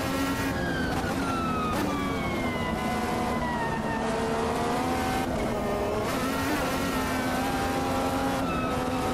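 A 2023 IndyCar race car in the Automobilista 2 racing game drones loudly and continuously through a race at Cleveland. Its high engine note rises and falls with shifting pitch, and no voices are heard over it.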